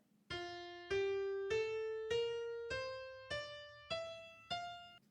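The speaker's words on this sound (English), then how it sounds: "Listen to the fourth note of the regular major scale." A scale of eight plucked or struck tones rises step by step, each note ringing and decaying before the next, played alone and evenly.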